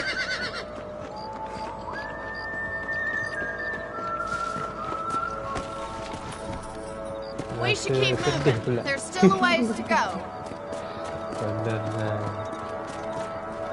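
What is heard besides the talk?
horses' hooves clip-clopping in video game Red Dead Redemption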